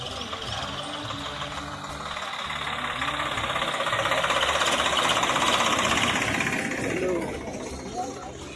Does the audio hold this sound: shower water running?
no